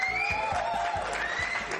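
An audience claps at the Mediapart Awards ceremony, a dense patter of hands under a steady music tone, brief and moderately loud.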